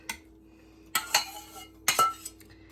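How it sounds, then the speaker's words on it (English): An omelette is folded over in a frying pan and slid onto a plate, giving a few light clinks and scrapes of utensil against pan and dish in quiet surroundings, with two distinct clusters of contact sounds. "all I'm going to do now is just fold it over, and it's ready to put on the plate"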